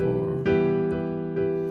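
Piano playing a steady rhythm exercise with one hand striking four quick notes against each slower note of the other hand, sustained harmonic tones with distinct attacks repeating about every half second.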